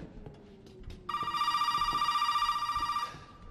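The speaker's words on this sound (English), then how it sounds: "Another phone call." A telephone rings in the Resident Evil 7 video game. The ring is a steady, bright electronic tone lasting about two seconds and rising out of quiet game ambience.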